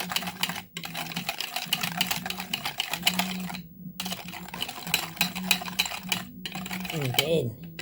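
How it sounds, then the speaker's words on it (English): Melted sugar and butter are stirred together for scones, producing rapid, close scraping and tapping of a utensil against a bowl in an even rhythm, with brief pauses and a voice faintly present. "our sugar and butter are melted. We mix it together."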